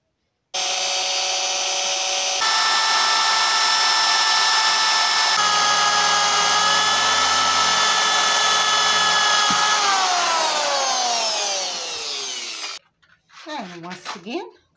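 A power drill bores a hole through the base of a heavy-duty disposable balloon stand, running steadily at high speed for about twelve seconds, then winding down, with brief voice or handling sounds after it stops.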